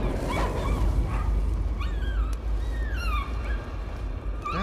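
In the horror video game Layers of Fear, a dog whimpers with high, wavering whines and gives a few barks over a low, steady rumbling ambience.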